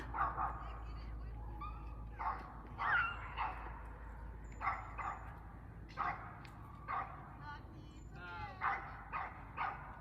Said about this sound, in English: Great. Now their dog's barking.